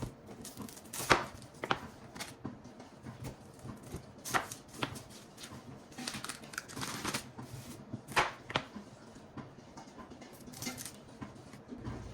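Onions are chopped for a southeast Louisiana gumbo, a knife striking a cutting board in quick, irregular close-up cuts with no talking.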